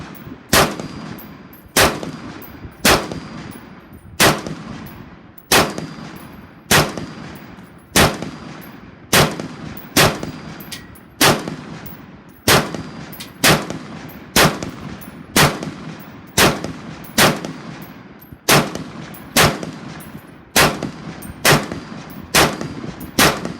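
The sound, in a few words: Brownells BRN-Proto rifle shots at the range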